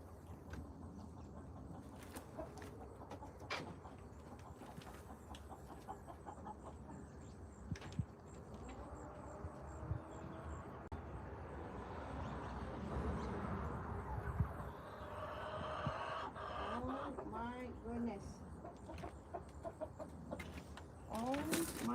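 Mixed breeds of chickens, less skittish than Minorcas, clucking and murmuring close by in a coop, a busy layered chatter with scattered louder calls and a person moving about.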